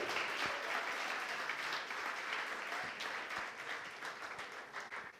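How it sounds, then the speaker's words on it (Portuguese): A church congregation applauds during a service, a sustained wash of many hands clapping that stays fairly even before easing off slightly toward the end. "Você pode aplaudir o Senhor"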